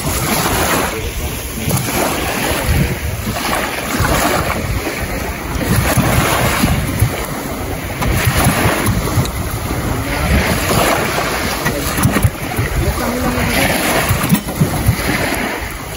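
A motorboat engine runs on open water as a bangka is put to sea, a steady broadband roar mixed with wind buffeting and wave wash throughout, with voices talking over it.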